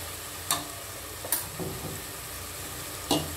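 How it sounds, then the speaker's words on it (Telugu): Ghee spooned into rice in a hot pan gives a steady low sizzle, with a few sharp clinks of a spoon against the pan spaced through the short stretch, close and moderately quiet, no voices. "ఇప్పుడు నేను ఇందులో కొంచెం ఘీ యాడ్ చేస్తున్నాను."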